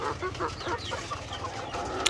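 Chickens on a Philippine farm with newly hatched chicks cluck and chatter in short overlapping calls, close and moderately loud, over a steady low background hum.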